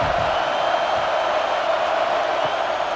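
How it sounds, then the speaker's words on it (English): Steady stadium crowd roar from a college football video game, Washington versus Michigan, a continuous distant wash of cheering voices holding at an even level throughout. "This crowd bringing the energy and noise early."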